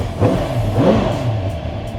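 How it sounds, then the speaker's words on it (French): A Shelby GT40 engine fires up by push button and settles into a loud, rumbling idle with a couple of throttle swells, close by. "on va pouvoir avec le bouton poussoir démarrer"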